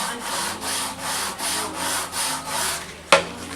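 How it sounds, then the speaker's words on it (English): Sandpaper of 80 grit rubs back and forth over a 45-degree wooden chamfer in steady, even strokes, close and fairly quiet, ending with a brief knock. "We're sanding at that angle, taking off the sharp corner."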